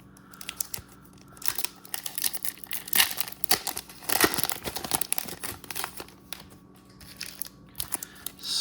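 A Topps Chrome UEFA Women's Champions League hobby pack being ripped open by hand, with close, irregular bursts of foil crinkling and tearing broken by short pauses over a faint steady hum.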